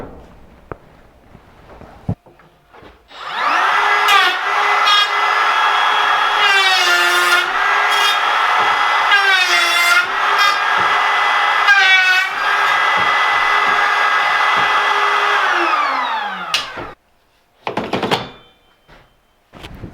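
Router fitted with a dovetail cutter runs on a UJK dovetail jig, spinning up to a loud, steady whine with pitch dips as it plunges and cuts into wood, then winding down, followed by a few brief handling knocks.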